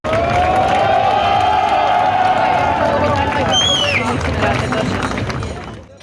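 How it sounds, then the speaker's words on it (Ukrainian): Spectators at the finish line of a spring charity race in Khmelnytskyi cheer and clap for a runner completing a one-kilometre distance, a loud continuous crowd roar with hubbub and a few shouted voices. "Біля фінішу його зустрічають оплесками."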